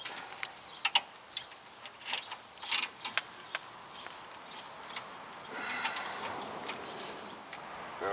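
Brake caliper bracket bolts on a 2015 Honda Civic are tightened with a ratchet, giving bursts of quick clicking ratchet ticks and small metallic clanks spread across the clip, with no talking.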